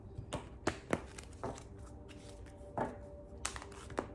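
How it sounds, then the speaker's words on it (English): Tarot cards riffled and shuffled in several quick, crisp bursts with short pauses between, close up and fairly quiet. "Well, that was a terrible shuffle."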